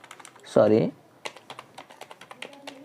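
Typing JavaScript code on a computer keyboard: a steady run of light, close key clicks, with one brief louder burst near the start.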